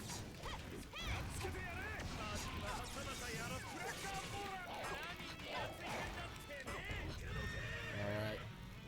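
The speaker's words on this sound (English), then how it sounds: "I've spooked the horses, so now we need to be careful." Spooked horses in the fighting video game JoJo's All-Star Battle R, whinnying repeatedly over clip-clopping hooves and impact crashes, with a player talking throughout.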